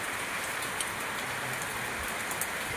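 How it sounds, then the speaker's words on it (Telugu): Constant rain pours down during a cyclone storm, a thick, even hiss of drops striking surfaces, with faint scattered patters and no talking. "అలాగే వర్షం జల్లులతో పడుతూ ఉంది"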